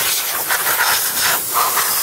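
Compressed air from an air compressor blasts dust out of a Dell One all-in-one computer with a failed CPU fan. It makes a loud, close, continuous hiss that pulses in short surges.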